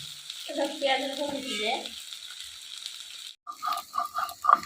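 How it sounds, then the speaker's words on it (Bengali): Raw cumin sautéed in egg curry in a rural home kitchen makes a hissing fry sound. A brief voice comes through at the start, and a run of rhythmic stirring knocks follows. "ডিমের জলে কাঁচা জিরে দিয়ে দিচ্ছি এই যে কষাচ্ছি"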